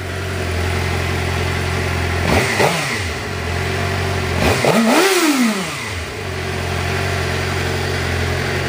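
A motorcycle engine runs steadily up close, its drone twice rising and falling as the rider revs and the bike passes or accelerates, the second surge louder and longer than the first.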